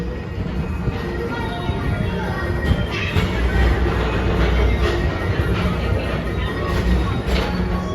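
The Tomorrowland PeopleMover ride at Disney's Magic Kingdom rolls along its elevated track with a steady rumble and faint rhythmic clatter, broadband and continuous at moderate loudness.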